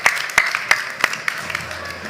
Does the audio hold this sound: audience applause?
yes